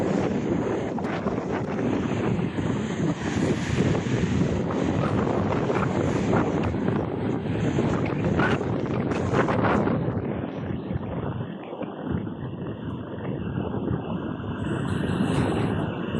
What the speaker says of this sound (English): the wind is just too windy to actually film on camera